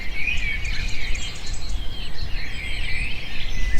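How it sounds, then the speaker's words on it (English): A cockatoo calling in a series of harsh, rising screeches and chirps over a low rumbling background, close and fairly loud across a few seconds. "Cockatoo."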